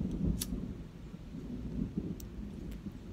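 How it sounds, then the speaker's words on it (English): Low rolling thunder rumbles steadily through a distant storm, with a couple of brief sharp crackles breaking above the continuous deep grumble. "You hear that thunder?"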